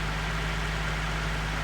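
A Nissan 370Z Nismo idles steadily after a cold start, a low, even engine hum that stays constant throughout the short stretch with no talking.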